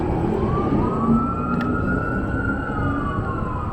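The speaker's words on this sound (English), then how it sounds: "Oh, it's an ambulance." A wailing ambulance siren rises and falls steadily over rumbling city street traffic in Philadelphia, sounding moderately close and continuous throughout.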